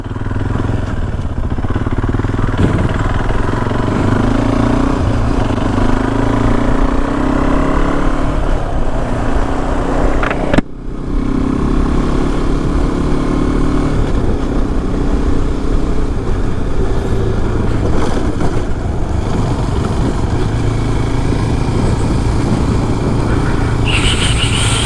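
A Royal Enfield Classic 350 motorcycle carries on its steady single-cylinder engine drone while cornering along a mountain ghat road, loud and close throughout with wind rush and a brief dip midway.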